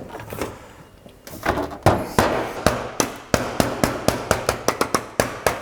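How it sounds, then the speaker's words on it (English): Keylite roof flashing on a tiled roof being tapped down onto the tiles, heard as a series of sharp close knocks, a few scattered at first, then a quicker, steady run of about a dozen taps. "if you've got any space between that flashing there and the tile, just tap it down into place"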